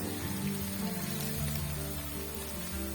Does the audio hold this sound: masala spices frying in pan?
yes